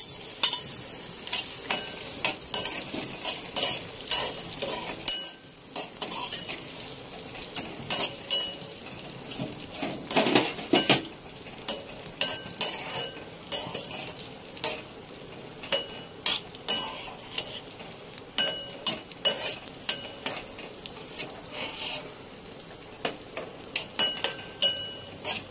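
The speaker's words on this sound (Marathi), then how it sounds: "आता मनुके तळून घेऊ।" Raisins frying in hot oil in a pan, a steady close sizzle with repeated sharp stirring clicks and scrapes, a brief quieter gap partway through, no talking.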